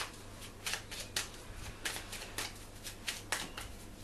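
Divine Direction oracle cards are shuffled by hand in a quiet room, a steady run of soft riffling flicks and taps repeating roughly every half second.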